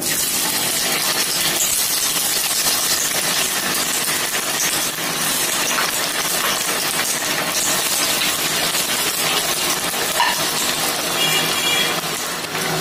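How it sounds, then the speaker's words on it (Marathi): Flattened methi bajra vadas deep-fry in hot oil in a kadhai over medium flame, giving a loud, unbroken bubbling hiss with faint crackles and light clinks running the whole way through. "मीडियम फ्लेमवर छान खरपूस होईपर्यंत आपण हे वडे तळून घेऊया"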